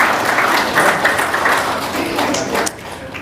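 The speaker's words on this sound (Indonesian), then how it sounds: "Tepuk tangan." Audience applause, a dense wash of clapping from a crowd, loud and steady before tapering toward the end.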